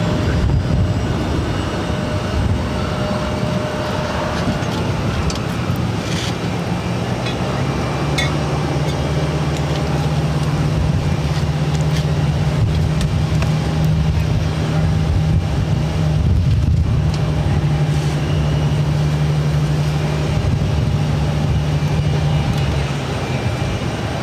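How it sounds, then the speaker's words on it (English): A Delta Connection Embraer E175 jet takes off at Boston Logan, bound for LaGuardia, a steady loud roar and rumble with a droning low engine tone holding throughout, distant broadband whine above. "This is Delta Connection 5726 taking off to LaGuardia on the E175."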